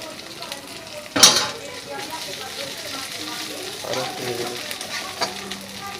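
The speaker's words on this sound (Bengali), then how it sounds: "এরপর দিয়ে দিচ্ছি রসুন আর আদা বাটা আরও একটু আমি ভেজে নিচ্ছি দিয়ে দিচ্ছি ধনে আর জিরে বাটা" Garlic, ginger, coriander and cumin paste sizzles in a pan, opening with a sharp clatter of a utensil against the pan, then a steady frying hiss with light scraping and stirring, and faint background noise.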